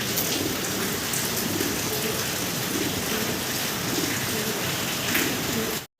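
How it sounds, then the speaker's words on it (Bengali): Heavy rain pours steadily outdoors, a dense, loud, continuous hiss of drops on surfaces with low rumbling beneath, ending abruptly near the end. "বাইরে প্রচুর বৃষ্টি হইতেছে হয়তো বৃষ্টির শব্দ পাচ্ছেন আপনারা"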